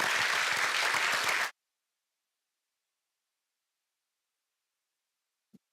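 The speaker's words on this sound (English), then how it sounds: "Let's give her a round of applause." Loud applause from a crowd for about a second and a half, then it cuts off abruptly into silence, with one faint short knock near the end.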